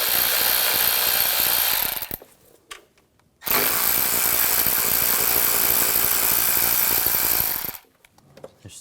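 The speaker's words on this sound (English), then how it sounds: "use an 8mm socket," A tool runs on the cover screws of a 2009-2013 BMW 328i xDrive with a 3.0L inline-six, using an 8mm socket. It gives two loud, close, sustained whirring bursts with a short quiet gap between them.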